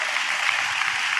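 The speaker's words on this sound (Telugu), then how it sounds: "చప్పట్లు కొడుతూ స్తోత్రాలు చెప్తాం" A congregation claps together during praise at a church service, a steady dense patter of hands filling the short moment without pause.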